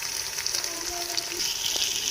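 Ginger garlic paste frying in a pan for a home-cooked chicken dish, a steady close sizzle with light stirring, a faint voice passing under it.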